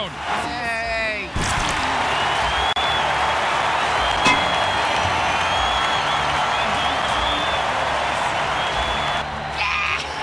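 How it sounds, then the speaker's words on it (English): Loud, steady stadium crowd roar after a touchdown in a simulated American football video game, filling the whole stretch with a dense wash of cheering, with a voice briefly audible at the start and end. "Listen to this crowd."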